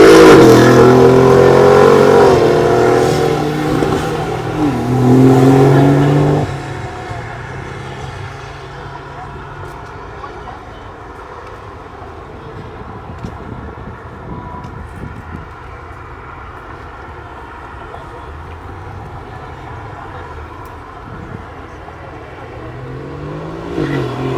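Cars leave a car show and accelerate up a highway on-ramp, a loud engine roar rising close by for several seconds, then a lower, more distant drone as more vehicles pass.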